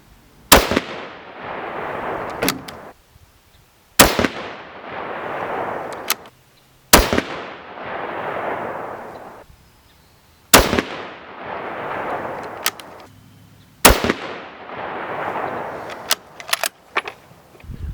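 Five sharp 6.5 Creedmoor rifle shots firing Hornady 123 gr ELD-M loads with IMR4350 powder, evenly spaced a few seconds apart, each a loud crack followed by a rolling outdoor echo, with faint handling clicks between.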